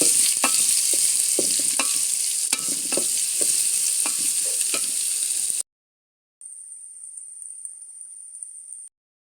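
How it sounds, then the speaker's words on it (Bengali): Onions fry in a pan for a beef curry while being stirred, a loud continuous sizzle broken by utensil scrapes and clicks. The sound then cuts off into silence, followed by a thin steady tone. "এবার পেঁয়াজ এগুলোকে ভালো করে নাড়তে হবে।"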